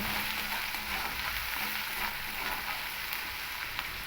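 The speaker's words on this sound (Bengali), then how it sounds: "এবার এই মশলাটাকে কিন্তু খুব ভালো করে কষিয়ে নেব" Ginger-garlic spice paste fries and is stirred in a pan, producing a soft, continuous hiss with faint stirring scrapes throughout.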